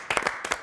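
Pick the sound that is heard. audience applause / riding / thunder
audience applause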